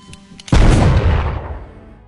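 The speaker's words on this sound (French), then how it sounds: "Sans hésitation, il tire plusieurs balles dans le front du gars." A single loud gunshot in a film scene cracks close and sharp, then booms and decays over about a second and a half.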